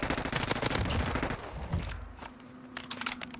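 Rapid bursts of automatic gunfire from the Ram-7 assault rifle in Call of Duty Warzone (Cold War season 3), loud and close, then thinning to scattered shots and fainter distant pops.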